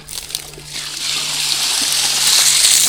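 Water sloshing and splashing close by outdoors, a steady broadband wash that swells and grows louder over a few seconds, with a low hum running beneath it.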